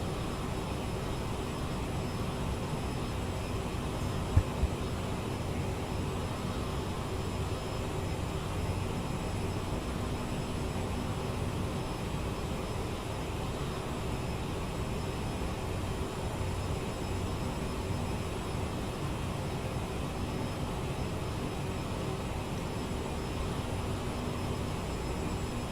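A CRJ's auxiliary power unit drones steadily during taxi in Microsoft Flight Simulator 2024, a constant broadband whine and rumble with barely any change throughout, broken only by one brief click.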